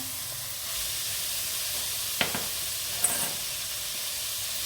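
Chicken fried rice with sweet corn stir-fried in a hot pan, a steady broad sizzle running throughout with a couple of brief scraping clicks from the spatula near the middle.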